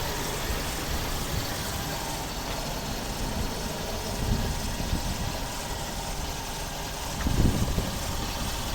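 A 1.6 MPi petrol engine in a 2006 Skoda Octavia A5 runs at a steady idle, a continuous low hum with a brief swell near the end.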